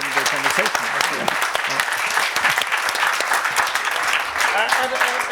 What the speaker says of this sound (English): Can we thank the panel for a wonderful conversation?